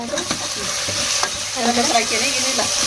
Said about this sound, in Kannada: ಉಳ್ಳಾಗಡ್ಡೆ ಹಾಕಿ ಇವಾಗ ಚೆನ್ನಾಗಿ ಫ್ರೈ ಮಾಡ್ಕೊಳ್ಳೋಣ ರೀ